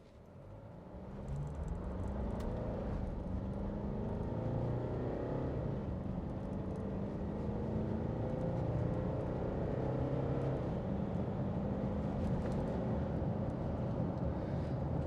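A 2022 Nissan Navara PRO-4X Warrior twin-turbo diesel ute accelerates from 0 to 100 km/h on road, a steady low engine drone that builds and holds for about thirteen seconds, heard from inside the cab.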